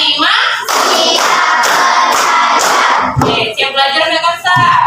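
A class of students standing in a room clap together in a counted group clap, a loud burst of overlapping claps with a voice briefly heard.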